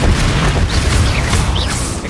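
The Confringo blast spell in Hogwarts Legacy erupts as a loud, booming burst, a dense rumbling explosion that fills the whole moment and then tails off slightly.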